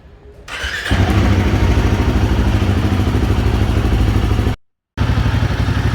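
A Royal Enfield Himalayan 450 motorcycle engine, freshly filled with Motul oil, starts up and settles into a loud, close, steady thumping idle; the sound cuts out abruptly for a moment before resuming.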